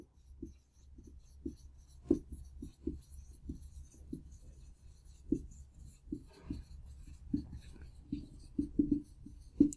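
Chalk or marker writing on a board during a Hindi chemistry lecture, heard as a steady run of short scratchy strokes and taps, close and fairly quiet, with no talk over them.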